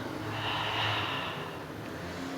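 A soft, steady exhalation of breath during a Pilates exercise, a faint airy sigh sustained over a couple of seconds against a quiet room hum.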